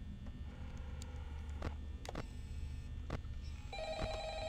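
A telephone rings faintly in the Five Nights at Freddy's video game, under a steady electrical hum with a few soft clicks and a brief tonal beep near the end.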